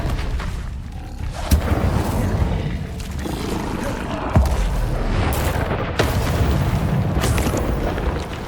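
Incendio fire spells cast in Hogwarts Legacy erupt again and again as loud whooshing bursts, with sharp booms spaced a couple of seconds apart over a dense, continuous roar.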